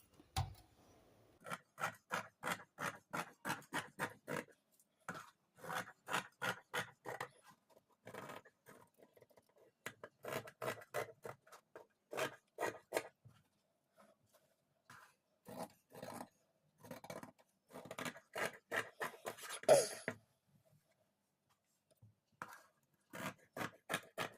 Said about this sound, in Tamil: இதை நம்ம கட் பண்ணி எடுத்துக்கலாம்